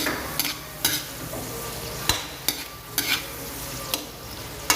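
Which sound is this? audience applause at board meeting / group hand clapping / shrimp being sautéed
shrimp being sautéed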